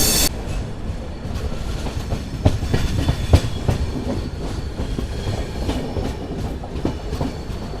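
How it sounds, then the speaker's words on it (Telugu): The Kerala SF Express, train 12625, rolls in toward Kollam Junction with a dense, continuous rumble, rhythmic clickety-clack of wheels over rail joints and metallic rattles, loud and close from start to finish. "మన ట్రైన్ వచ్చేసి కొల్లం జంక్షన్కి వచ్చేటప్పుడు కానీ ఫుల్ కరువు తీసుకుంటుంది"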